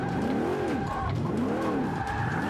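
Tires squeal and skid in Forza Motorsport 5 on Xbox One as the handbrake is pulled, a loud continuous wavering screech over engine drone that rises and falls twice, close and sustained throughout.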